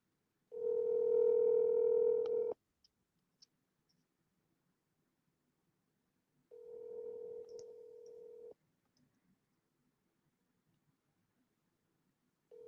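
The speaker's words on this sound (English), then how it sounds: "I'm gonna double tap him and call him again" A phone call rings out on the line, giving two long, steady tones about two seconds each, separated by a long quiet gap, with a third tone just starting at the end; faint and with no one speaking.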